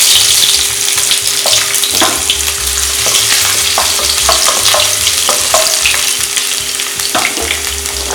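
Ginger frying in hot oil in a kadai for a green chili chicken gravy, a loud close sizzle with sharp pops and crackles scattered throughout, continuous and without any voices.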